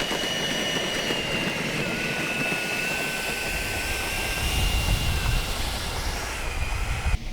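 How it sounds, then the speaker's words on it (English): FlyFans J-20B RC model jet taking off on a runway, a loud steady whooshing roar with a high whine that grows slightly stronger partway through, continuous and close. "All right, guys, we got the J-20 on the runway now. Timer set at 2 minutes 30 seconds, and we are taking off."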